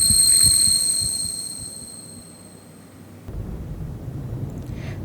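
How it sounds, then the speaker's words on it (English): Low distant thunder rumbles in the horror visual novel Death Mark, a dull throbbing roll that fades mid-clip and then swells again under a faint high ringing tone, with no talk. "Thunder rumbles in the distance."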